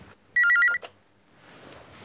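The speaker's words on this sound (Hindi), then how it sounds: "अरे इस वक्त तुम्हें कौन फोन कर रहा है?" A telephone bell rings once in a short electronic trill, loud and close, followed by quiet background hiss.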